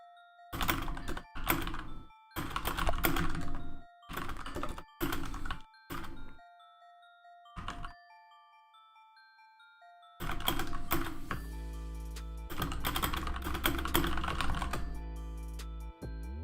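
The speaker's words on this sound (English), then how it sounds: "Can you hear my keyboard when I type?" Someone types on a computer keyboard in bursts of rapid, close clacking key presses separated by pauses, followed by a longer run of typing over a sustained tone with a few ringing chime-like notes.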